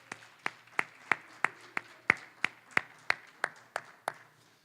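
Graduates at a GRCC job training graduation ceremony clap together in a steady, even rhythm, about fourteen sharp claps spaced evenly apart, fairly soft and with no voices over them.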